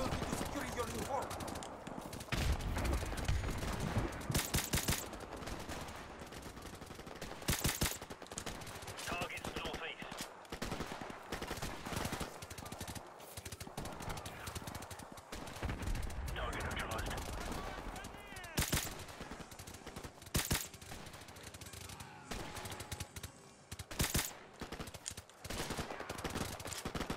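Gunfire in Call of Duty: Modern Warfare, with rapid automatic bursts and single shots that start and stop irregularly amid battle noise, loud and close, with voices speaking in places.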